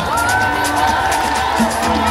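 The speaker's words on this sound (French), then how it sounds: "j'aimerais des applaudissements devant le char de Paul Watson" A large outdoor crowd at the Nice carnival cheers and whoops in a continuous loud wash, with children's shouts rising above it.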